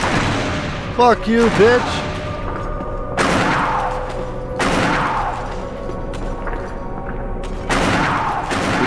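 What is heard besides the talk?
gunfire in Resident Evil video game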